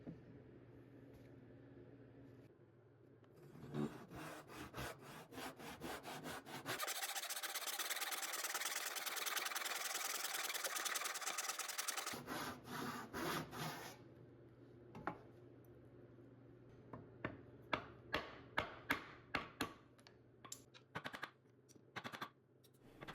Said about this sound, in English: I'm going to cut those rabbets by hand, the good old-fashioned way.